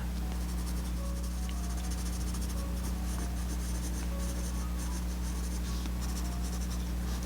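A pencil shades across paper in continuous scratchy strokes, soft and close, under a steady low background hum with no talking.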